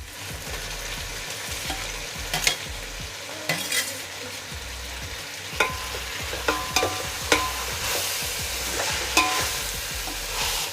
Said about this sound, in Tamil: நல்லா இந்த பச்சை வாசனை போகிற அளவுக்கு வதக்கிக்குங்க.